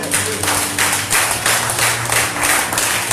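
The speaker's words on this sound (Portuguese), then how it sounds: "Dá uma salva de palmas bem forte" A congregation at a Christian cathedral vigil gives a loud round of applause, with many hands clapping in a rhythmic, pulsing pattern that stays steady and close throughout.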